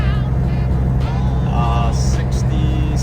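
A car with Spicer 5.13 gears cruising on the Mass Pike at about 2,600 RPM and 66 mph, a steady loud engine and road drone inside the cabin while someone talks over it.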